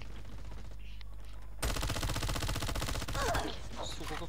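Call of Duty Mobile gunfire: rapid automatic bursts rattle loudly and continuously for a couple of seconds after a quieter stretch, with brief game sounds at the end.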